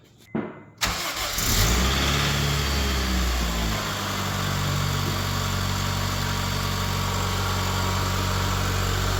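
A car engine cranks and catches after a short pause, revs up, then settles into a steady, even idle that runs close and loud for several seconds with no talking.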